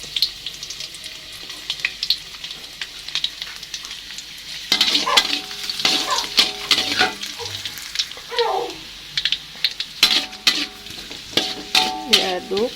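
Garlic fries in hot oil in a pan while being stirred for a sardine dish, a steady close sizzle with scraping stir strokes that grows busier midway, with faint voices in the background.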